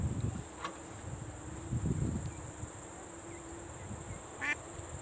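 A few short, bright duck quacks sound at moderate distance by a lake in the evening over steady outdoor ambience with a constant high insect-like drone.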